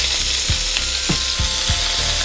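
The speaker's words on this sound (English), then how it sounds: "I'm going to go ahead and squirt my lemon in. I love hearing the sizzle of that." Lemon juice hits a hot pan with salmon and sizzles loudly and steadily, close up, with several low thuds and scrapes of the pan or utensils beneath the frying.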